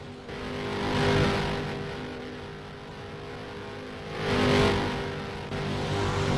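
Modified race cars roar past on an oval track at a season-finale event, engines swelling and fading twice as they run side by side, loud and continuous with no talk.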